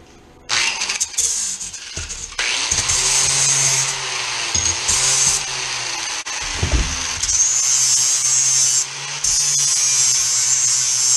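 Power tool grinding metal on part of a homemade chainsaw mill, a loud continuous high whine running almost throughout with brief dips and a pause near the middle, close by.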